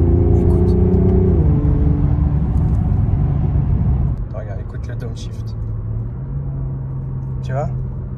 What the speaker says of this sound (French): Regarde, écoute le downshift.